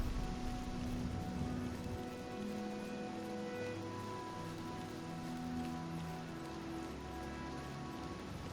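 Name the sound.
rain in the video game The Elder Scrolls IV: Oblivion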